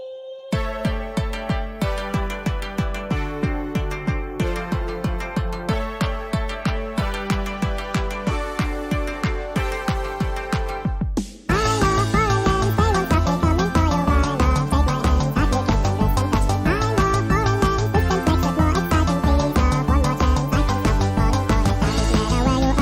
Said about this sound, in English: It's a Eurodance, Europop, Eurobeat type of thing.